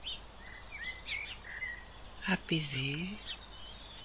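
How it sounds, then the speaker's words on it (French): Birds singing on a calm walk, with light chirps and short whistled calls scattered through the clip, partly under a soft speaking voice. "On entend les oiseaux"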